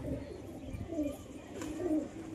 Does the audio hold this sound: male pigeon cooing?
yes